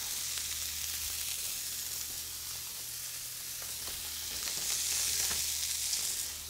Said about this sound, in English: I'm gonna keep this going and searing, turn it over. Sear the other side.